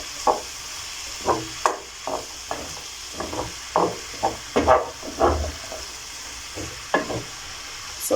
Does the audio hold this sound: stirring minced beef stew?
yes